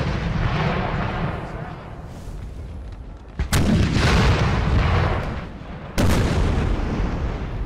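Artillery fire in the video game Napoleon: Total War, with French and Austrian guns on a battlefield: a continuous roar of battle broken by two sharp, loud cannon blasts a few seconds apart, with a commentator's voice faintly underneath.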